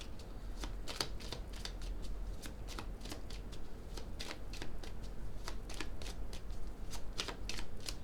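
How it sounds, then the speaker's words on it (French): Tarot cards are shuffled and handled continuously, with a steady run of close, crisp riffling flicks and soft slides repeating throughout, no voices. "On va recouvrir les cartes."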